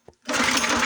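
After a brief click, a cheap $100 mini pit bike's small engine revs up sharply on the throttle into a loud, buzzy, steady drone, close by and without talk.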